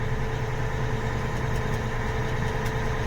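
A farm tractor with hydraulic front suspension idles nearby, a steady, even rumble with a constant hum and slight vibration that holds unchanged throughout, with no voices.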